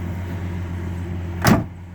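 A 1971 Chevelle with its original straight-six engine idles with a steady low hum, then a short loud whooshing burst near the end.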